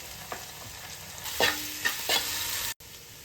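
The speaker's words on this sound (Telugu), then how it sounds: "ఒక స్పూన్ అల్లం వెల్లుల్లిపాయ పేస్ట్ వేసి పచ్చివాసన పోయేంత వరకు వేయించుకోవాలి" Onions fried in a pan with ginger-garlic paste for mutton rice give a steady close sizzle, with a few spatula scrapes and clinks near the middle, then an abrupt cut; no one speaks.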